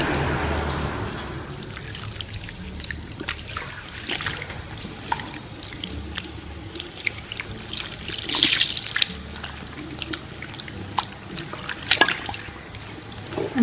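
Running water from a tap splashes and trickles steadily while rinsing a hair mask out of hair at a sink, with close drips and shifting pours throughout.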